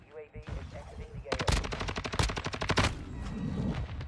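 Rapid automatic gunfire in Modern Warfare 2 multiplayer, a dense burst of close, loud shots lasting about a second and a half amid lighter scattered shots and game noise.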